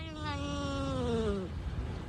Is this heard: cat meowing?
yes